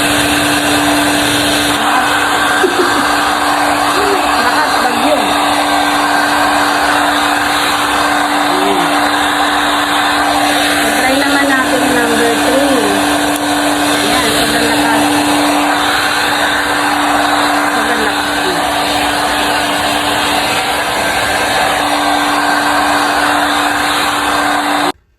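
A Konka Anion hair dryer runs steadily on speed setting 2, a loud continuous whirring blast of air with a constant motor tone from start to finish; a voice briefly speaks over it.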